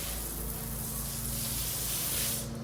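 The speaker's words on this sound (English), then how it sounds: "I'm spraying away." A pressure washer sprays in a continuous, loud hissing rush with a steady engine drone underneath, close by and uninterrupted.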